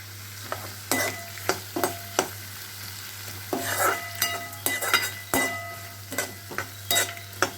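Onions with a little salt sizzle steadily in a hot pan for a brinjal sabji while a spoon scrapes and stirs in short, repeated strokes, close and fairly loud, with a low background hum.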